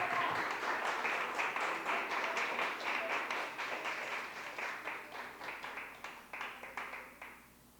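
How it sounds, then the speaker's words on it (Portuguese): A church congregation applauding during a sermon, a sustained round of rhythmic clapping from many hands, fairly distant and steady, gradually thinning toward the end. "Quem crê nisso, diga glória a Deus, aleluia, e aplauda ao Senhor Jesus."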